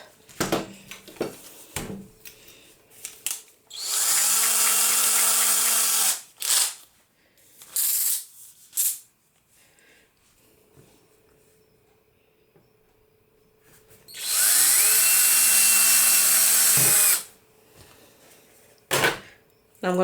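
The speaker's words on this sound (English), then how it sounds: "I'm going to go ahead and drill both sides at the same time." A power drill whines in two long bursts drilling Lexan plastic, its pitch rising as it spins up, separated by handling clatter and quieter bumps.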